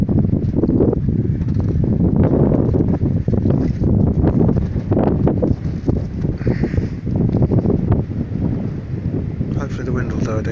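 Wind buffeting a boat at a bouncy anchorage, a loud continuous roar of gusts and microphone rumble that lasts throughout.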